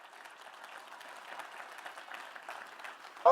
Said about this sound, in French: Applaudis comme quelqu'un qui veut être libre